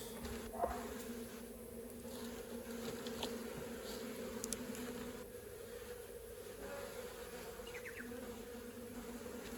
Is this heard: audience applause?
no